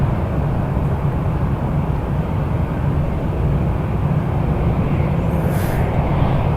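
Boeing 777-300 arriving from Heathrow at Toronto Pearson at night, a continuous heavy jet rumble that stays steady and fairly loud for the whole stretch, with no voices over it.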